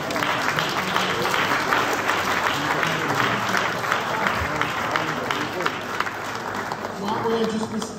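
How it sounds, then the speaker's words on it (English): Congregation applause at a funeral service, a loud, continuous round of many people clapping that rolls on steadily for several seconds with some voices mixed in. "big clap."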